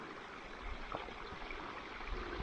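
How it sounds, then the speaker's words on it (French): A small mountain waterfall on a trail near Mont Charvet above Pralognan-la-Vanoise, Savoie, makes a faint, steady rushing wash with soft splashes, distant and continuous with no voices. "on voit bien aussi la petite cascade"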